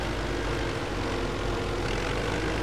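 Tractor engine in the off-road game Spintires: MudRunner, a steady, dense drone that holds even and loud throughout with no pauses or voices.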